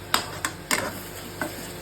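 A spoon scrapes and clacks in a pan of spice masala frying in oil for khichuri, giving four or five distinct close stirring strokes over a faint, steady sizzle, with no talking.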